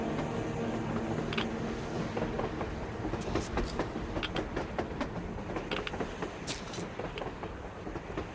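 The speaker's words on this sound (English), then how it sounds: "A train! A damn train on the surface!" A train in the video game Metro Exodus rumbles past with steady clattering and rolling noise, sharp metallic clicks and squeals breaking through over the continuous roar.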